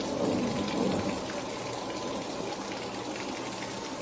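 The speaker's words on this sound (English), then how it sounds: "You'll see all the water coming out the bottom." Water gushing out the bottom of a fire engine's pump discharges as the pump is drained, a steady broadband splashing rush at moderate level, slightly stronger at first and then even, with no voices.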